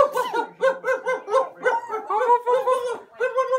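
A young child repeatedly imitates a dog barking, giving about ten rhythmic yappy woofs in quick succession, close and clear.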